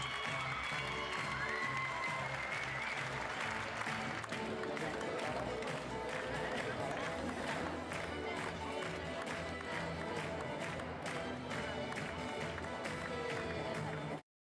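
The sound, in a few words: applause for newly crowned Miss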